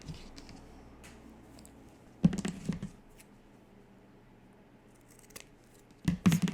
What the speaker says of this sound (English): just going to trim off these extra pieces.